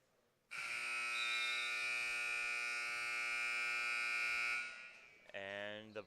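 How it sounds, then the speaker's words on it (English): A loud, sustained electronic buzzer ending the first half of a girls' basketball game blares steadily for several seconds, then cuts off, followed by a brief rising tonal sound. "And the buzzer sounds the end of the first half."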